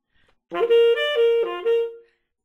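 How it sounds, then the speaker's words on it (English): A single melodic horn plays a short run of swung jazz eighth notes with a triplet feel, a lilting, uneven long-short rhythm, clear and close, with no talking. "Played swung, using the triplet feel, it sounds like this."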